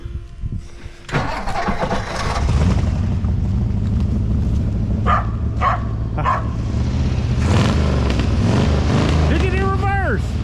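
A 1957 Ford Fairlane 500 with a 312 V8 cranks over and catches, then settles into a loud, lumpy idle up close, with a dog barking in short bursts and people talking nearby.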